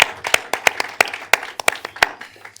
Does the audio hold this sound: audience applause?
yes